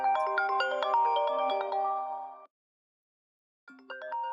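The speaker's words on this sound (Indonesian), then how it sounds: "Telepon masuk paling mengganggu tuh" A mobile phone ringtone for an incoming call plays a bright melodic tune loudly and alone in a studio, cuts off for about a second, then starts again.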